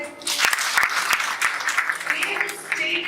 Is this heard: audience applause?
yes